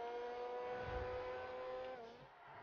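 A Ferrari F12 V12 engine accelerates in GTA 5, a faint steady whine that climbs in pitch and then eases off near the end, heard alone.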